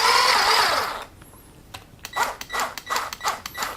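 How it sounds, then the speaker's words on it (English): A whisk beats melted butter into waffle cone batter in a bowl: a burst of broadband noise at first, then a quiet pause, then a series of quick, rhythmic scraping strokes. "and then we're gonna whisk everything."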